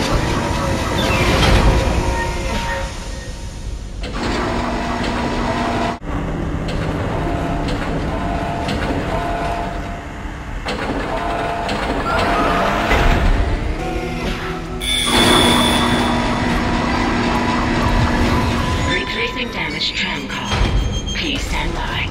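A tram rolls along its tracks in a steady metallic roll, with sharp clanks and thuds, while game voices talk over it.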